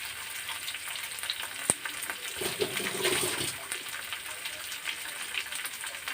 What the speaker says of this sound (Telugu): తాలింపు ఇలాగా సిమ్లో పెట్టుకుని చక్కగా పోపు అంతా వేగే వరకు బాగా వేయించుకోవాలి